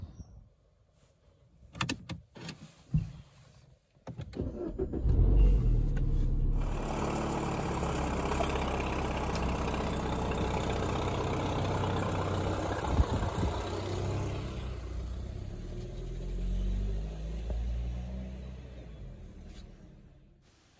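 A Mini Clubman Cooper S (R55) with a blowing exhaust starts after a few clunks and knocks, then settles into a loud, steady engine note that runs close-up without talk for the rest of the clip.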